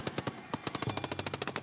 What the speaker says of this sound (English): The tank's machine guns start firing, and eventually, gunshots cease.